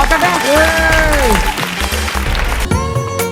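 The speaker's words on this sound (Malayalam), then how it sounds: "ഒരു കൈയടി കൊടുക്കാം" Studio audience applause on a television quiz show, a burst of clapping mixed under loud music and voices, brief and close.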